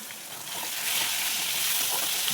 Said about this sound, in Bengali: এবার আলুটাকে একটু খানিক্ষণ ভেজে নেবো